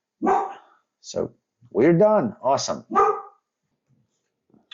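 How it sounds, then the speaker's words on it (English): A pet dog barks several times in loud, close, sharp bursts, while someone speaks briefly in between the barks. "Excuse my dog. She is sensing a mailman."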